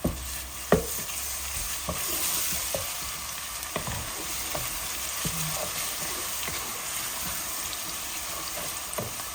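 Chicken biryani base frying and being stirred in a pan with onions and garlic, a steady close sizzle broken by clinks and scrapes of the spoon at irregular intervals, with no talking.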